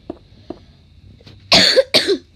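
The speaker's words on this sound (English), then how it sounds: "After I actually cough." Two hard, harsh coughs sound close to the microphone, preceded by a few faint clicks and quiet breaths.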